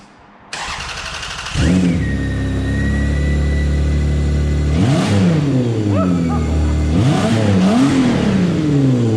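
A Toyota 1MZ-FE V6 engine running with no air filter whirs as the starter turns, fires up loudly, then revs sharply several times, each rev rising and falling back to a rumbling idle.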